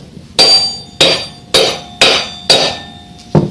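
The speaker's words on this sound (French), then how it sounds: "On va prendre un petit marteau et taper dessus 2-3 fois" Six sharp metallic strikes of a small hammer tapping a scooter engine part ring out at a steady pace, close by, each with a short bright ring.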